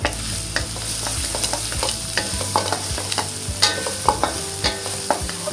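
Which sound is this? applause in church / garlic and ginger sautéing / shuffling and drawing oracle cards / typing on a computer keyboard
garlic and ginger sautéing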